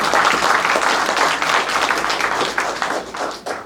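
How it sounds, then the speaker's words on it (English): A Congressional Gold Medal ceremony audience in Simi Valley bursts into sustained applause, dense clapping filling the hall at steady loudness before tapering slightly at the end. "You can clap now."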